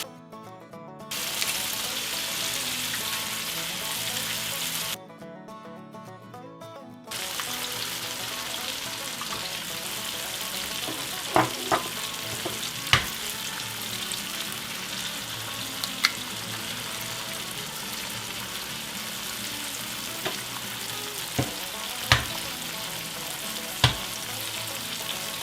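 An egg frying in a pan, a strong steady sizzle that cuts out briefly and returns, with occasional sharp spatula taps and scrapes as it is stirred, close and without talk.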